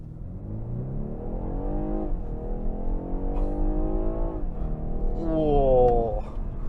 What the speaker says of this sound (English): I'm going to put it in the sport plus mode, put it in drive, and we are ready for